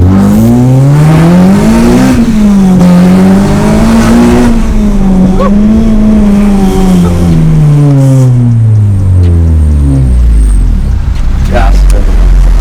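Honda Civic Type R accelerating hard through the gears, the engine revving up loud and close in repeated climbing pulls with shifts between them, while people talk over it inside the car.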